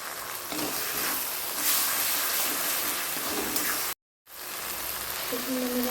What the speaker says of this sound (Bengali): আমার মশলাটা খুব সুন্দরভাবে কষা হয়ে গেছে, চারিপাশ দিয়ে তেল হয়ে যাচ্ছে।